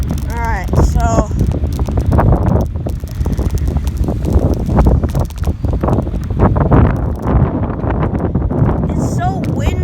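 Strong wind buffets the microphone during an outdoor bike ride in Hidden Valley, a steady loud roar throughout with bird chirps and a rider's voice heard over it.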